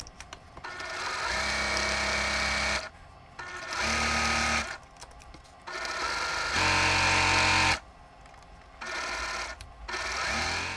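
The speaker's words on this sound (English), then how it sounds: "Here I'm sewing a Ukrainian flag block and a rolling stone block together." A sewing machine joins quilt blocks in several loud, steady whirring bursts of stitching separated by short pauses, close and without talk.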